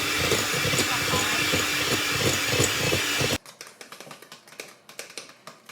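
A bake-off mixture whipped by an electric whisk, a loud steady whirring drone that stops suddenly, followed by quieter clattering taps and scraping in a bowl, with some talk.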